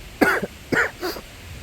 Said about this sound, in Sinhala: අද මට ටිකක් සනීපත් නෑ. පොඩ්ඩක් කැස්ස හැදිලා